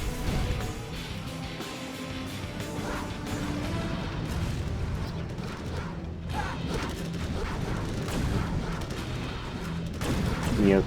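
An airport building is destroyed during an attack in a real-time strategy game battle on a coastline map, amid dense artillery booms, gunfire and crashing explosions, with commentary running over the continuous battle noise.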